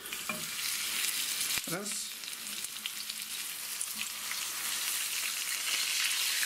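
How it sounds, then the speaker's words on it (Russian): Crucian carp for a beer-fried carp dish sizzling and frying in a pan, a steady close hiss of hot oil running throughout with a brief clatter of stirring or turning near the start; a single short spoken word. "жарим карася, ну, минутки 3-4, пока он не позолотится"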